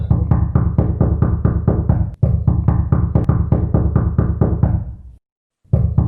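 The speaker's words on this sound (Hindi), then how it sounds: "अचानक से विकास के दरवाजे पे कोई नॉक करता है।" Knocking on a door: a steady run of loud, close raps at an even fast rhythm, a brief pause, another long series, then silence before knocking starts again; no voice.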